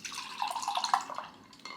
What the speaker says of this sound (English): Then you open it up like a little water bottle and pour it in a glass.